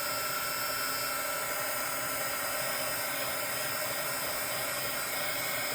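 A heat embossing tool blows and melts embossing powder on aluminum foil, a steady high-pitched whirring hiss that runs unbroken and close throughout.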